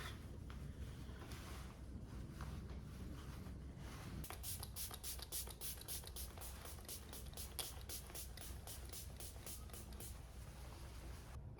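Setting spray misted onto a face over a layer of powder, heard as a rapid train of short, crisp hissing spritzes, fairly close and steady, running for several seconds over a soft background hiss.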